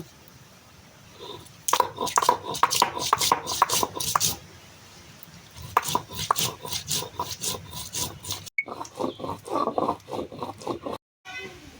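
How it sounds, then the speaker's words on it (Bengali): Spices being ground by hand for chicken curry, with repeated scraping and rubbing strokes in bursts, fairly close, pausing between rounds and with some background sounds. "মশলাটা বেটে দিচ্ছি"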